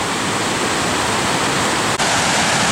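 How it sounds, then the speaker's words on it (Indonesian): Roaring water pours over the Jeuram weir in Aceh, a loud, steady, close rush of broadband roar that holds throughout with barely any change. "Luar biasa gemuruh dari Bendung Jeram."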